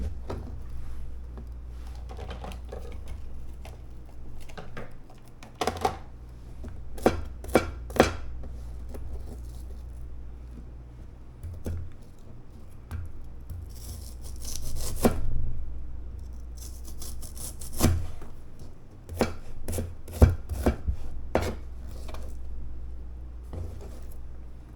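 Onions are chopped with a knife on a cutting board: irregular, sharp, close knocks in scattered bursts, some louder than others, over a quiet kitchen.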